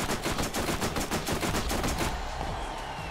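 Rapid automatic gunfire in the video game Borderlands, a dense loud burst of repeated shots at an even fast rhythm for about two seconds, then tailing off into ringing echo.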